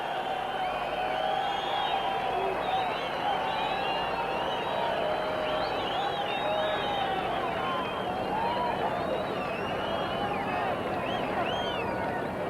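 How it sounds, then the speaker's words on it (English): A stadium crowd at a 1987 rugby league match keeps up a sustained, distant murmur of applause and cheering, with scattered whistles and shouts, under a commentator talking. "Crowd giving them a well-deserved round of applause."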